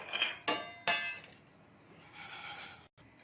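Metal clanks against a plate a few times, then a scattered rattle of small hard fried sago pieces sliding onto it, close by.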